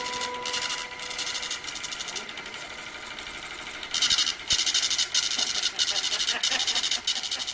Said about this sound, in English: will now cause the voting machine to print out a tape reading the number of votes